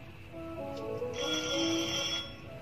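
A phone ringtone plays in a film scene, a steady electronic melodic tone that holds for a couple of seconds at moderate level with faint background sound.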